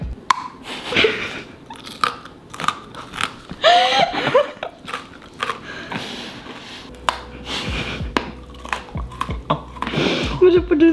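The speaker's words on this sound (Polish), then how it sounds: "Degustacja piarniczków Juli" Homemade gingerbread cookies are bitten and chewed close up, giving crunchy, irregular bites and chewing amid talk and laughter, loud and busy throughout.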